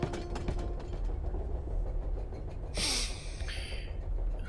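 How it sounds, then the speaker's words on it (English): Train ambience from The Charnel House Trilogy horror game, a steady rumbling carriage drone with faint rhythmic clicks, swelling into a brief bright hiss or screech near the end, no voices. "Oh, we're on the train."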